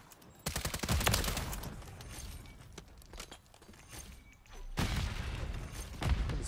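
Suppressed Honey Badger rifle fire in Modern Warfare 3, with dense bursts of muffled shots in two volleys over footsteps and game ambience.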